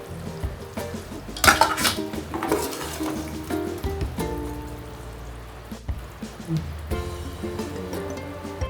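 A ladle scrapes and clinks against a cooking pot, scooping thick egg biryani gravy in a few uneven bursts, with wet slopping sounds and a low kitchen hum, close by and without speech.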